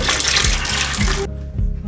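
Custard mixture poured over bread spread in a baking dish for a cheap, easy bread pudding, a steady close liquid pour that stops abruptly near the end.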